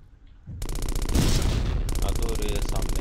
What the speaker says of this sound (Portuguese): Tô ouvindo os tiros